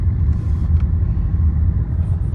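A Toyota Innova driving through city traffic, heard as a steady low road rumble and engine drone from inside the car, continuous and fairly loud, with no talking.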